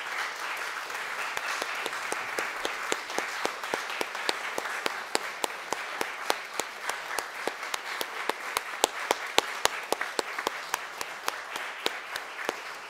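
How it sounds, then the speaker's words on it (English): A church audience at a youth music concert applauds junior scholarship winners, with scattered soft clapping that grows into sharp, distinct claps standing out over a steady patter for about thirteen seconds. "stand so we can applaud all the juniors"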